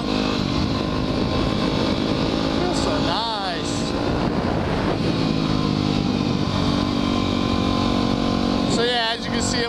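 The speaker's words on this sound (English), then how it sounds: "I'm on the dirt bike today." Honda dirt bike engine riding a wooded trail, a steady loud drone with rising and falling revs under wind, a voice talking briefly over it.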